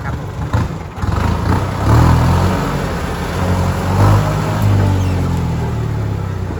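A 2020 Kubota MU5702 tractor engine runs steadily up close, with a low droning rumble that swells briefly a couple of times, as if the hydraulics or gears are working, and no talking.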